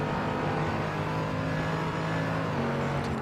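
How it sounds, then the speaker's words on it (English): A Mercedes-AMG GT3 race car engine in the Assetto Corsa racing game drones loud and steady, a continuous harmonic tone holding at high revs with slight pitch shifts and no talking. "I do like the sound of the Mercedes. It just has a lovely tone to it."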